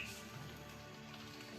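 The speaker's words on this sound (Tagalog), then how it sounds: "biglang bumuhos yung malakas na ulan tol." Heavy rain pours onto a tarp and surrounding surfaces in a steady, dense patter, a continuous close hiss with no voices.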